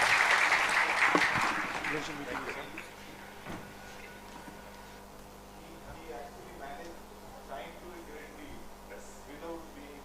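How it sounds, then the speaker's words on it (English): Conference audience applauds a moderator at an HR event, a burst of clapping up front that fades within a couple of seconds, followed by scattered sounds and people talking. "one huge round of applause for a wonderful moderator as well."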